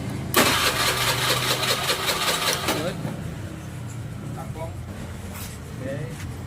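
A Honda Beat FI scooter with an electrical fault cranks with a brief starter whir and then catches, settling into a steady mid-pitched idle, with someone talking quietly nearby.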